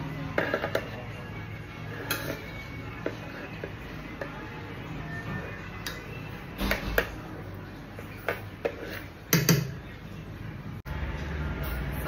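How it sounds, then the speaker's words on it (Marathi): Khichdi being served into a plate, heard as scattered clinks and taps of a spoon against a steel plate and pot, irregular and close, with quiet gaps between. "आणि आता मी या ताटामध्ये वाढते खिचडी."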